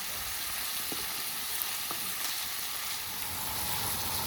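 Meat frying steadily in a hot pan, a constant crackling hiss with a couple of faint utensil clicks.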